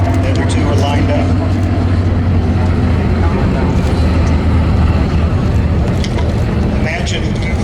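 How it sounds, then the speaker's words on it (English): A C-47 aircraft taxis in at an airshow, its piston engines droning as a steady, loud, continuous rumble throughout, with a voice talking over it. "Okay, here comes the C-47 coming in."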